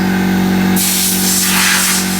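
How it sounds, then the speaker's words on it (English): Ceramic insulation sprays onto a bus interior in a loud, sudden hiss that starts partway through and continues close by, over a steady low mechanical hum. "I think it'll be just fine if I spray it here"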